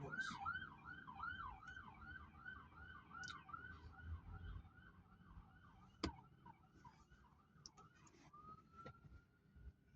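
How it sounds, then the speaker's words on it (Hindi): An ambulance siren wails in repeated rising-falling sweeps that settle into a steady tone, heard fairly faint and from a distance over low street background, with one sharp click midway. "एम्बुलेंस आ रही है, एम्बुलेंस।"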